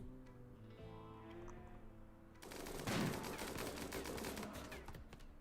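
Mass gunfire erupts in the colony game RimWorld: dense rapid automatic shots and overlapping bursts crackle continuously after a quieter tonal passage, fairly close and sustained to the end.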